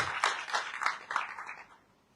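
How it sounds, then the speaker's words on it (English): A short round of applause from a small audience at a Nigerian film-company introduction, a few quiet, uneven claps fading out within two seconds. "Please give them a round of applause"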